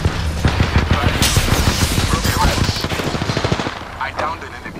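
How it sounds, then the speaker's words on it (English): Rapid automatic gunfire rattles in the Apex Legends video game, a loud, close burst of fast shots that slows and fades near the end. "Bad boys are shooting at me."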